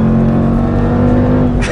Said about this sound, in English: This is the 5-liter supercharged, and it's a glorious Jaguar engine.